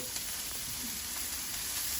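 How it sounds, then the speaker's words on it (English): Steady, close sizzling of onions frying in a pan, a constant crackling hiss with faint stirring, no voices. "that's that good sizzle right there"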